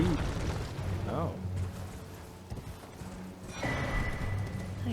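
Horse hooves clip-clop in an Elden Ring boss fight in Limgrave, a steady rhythm of hoofbeats mixed with game effects and low background rumble, with voices talking over it.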